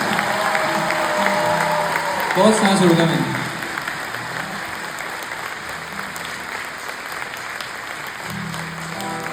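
Concert audience in Toronto applauding a performance: steady crowd clapping with a brief louder swell early on, while someone speaks over the top.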